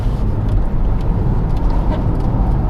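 A BMW E92 M3 with a small GT wing and Apex wheels passes on the road, its engine a loud, steady rumble filling the whole moment.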